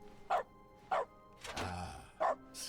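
Dog barking in dog mode of The Stanley Parable video game, a few separate single barks spaced about half a second apart, close and clear, with a brief rising game sound between them.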